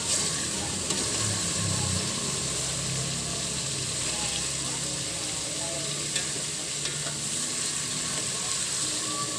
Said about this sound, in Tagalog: Lahat na yan, nagisa na lahat yan para lumambot